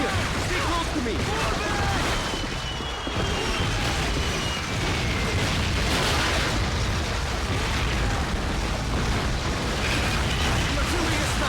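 Artillery explosions in Call of Duty: Finest Hour rumble as a dense, continuous wall of booms and bursts, loud and unbroken, with voices talking underneath the barrage.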